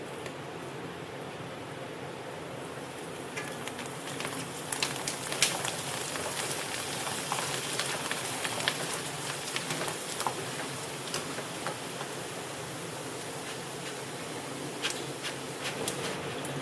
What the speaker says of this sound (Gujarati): હવે આપણે એને પણ તળી લેશું સરસ એવું.